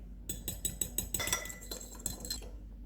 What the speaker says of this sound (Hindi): अंडे को फेंटेंगे